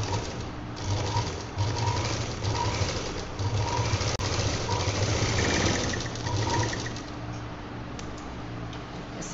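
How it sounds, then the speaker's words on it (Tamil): Sewing machine stitching the bottom seam of a cloth shoulder bag, a close, steady rhythmic whirring in several runs with brief pauses between them. "இப்போது அடிபாகத்தை சேர்த்து வச்சு இங்கேருந்து இங்கே வரைக்கும் ஒரு தையல்."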